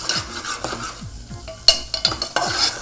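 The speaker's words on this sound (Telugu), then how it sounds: "ఆ తర్వాత పసుపు, ఉప్పు, కారం, గరం మసాలా ఇవన్నీ కొంచెం కుక్ అయ్యేలాగా మనము కలుపుకోవాలి" Keema with onions, ginger-garlic paste, turmeric, salt, chilli and garam masala stirred in a pan for potlakaya stuffing: repeated scraping strokes of a spoon under a steady sizzle, with sharper clacks against the pan near the end.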